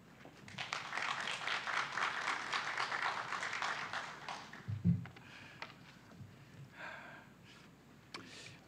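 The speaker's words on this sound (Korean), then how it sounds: "우리 박수로 우리 환영하고 말씀 나누도록 하겠습니다" A church congregation at a Friday worship and prayer meeting claps to welcome a missionary speaker, a moderate burst of applause that fades after about four seconds into scattered quieter sounds and room noise.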